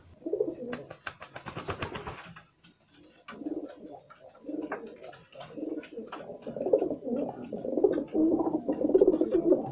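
Pigeons coo repeatedly during mating, with a male and female together. The soft, rhythmic coos come close and steady and build toward the end, broken by a burst of wing flapping and rustling near the start.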